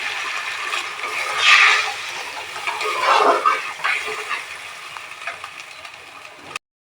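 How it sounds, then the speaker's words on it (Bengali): Water poured onto spice paste fried in oil for a Bengali papad curry, giving a loud rushing gush and hiss that swells twice and then settles into a steady, softer sizzle. "এবার আমি এতে কিছুটা পরিমাণে জল অ্যাড করে দেব।"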